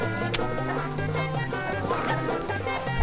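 Mario Party 3 gameplay with a chicken clucking throughout, steady and dense, layered over the game's music and effects, with no voices.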